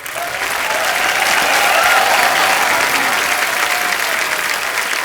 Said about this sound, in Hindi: एक बार जोरदार तालियां मुबारका की पूरी टीम के लिए।